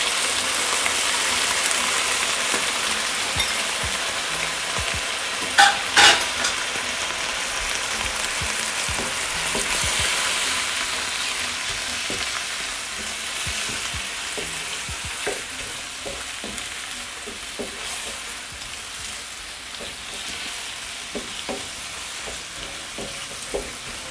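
Chicken Kung Pao chow mein fries in a pan with sauce, making a steady, dense sizzle that runs throughout, with occasional clinks and scrapes from stirring.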